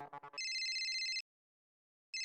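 A mobile phone ringtone rings during a meeting, a bright electronic tone held steadily for nearly a second, then a pause before it starts again, preceded by a short burst of chirps.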